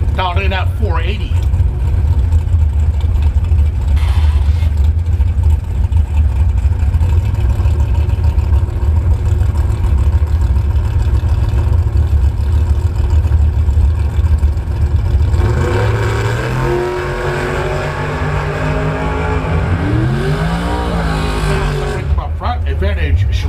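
A brand-new 2023 Worthy Chassis dragster at a Labor Day bracket drag race at Bradenton Motorsports Park: a loud, steady engine roar holds, then climbing and falling revving sweeps surge near the end.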